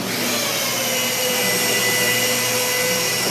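Rotary buffer polisher running at 900 RPM, a steady close motor whir with airy hum that holds unbroken through the short stretch, without speech.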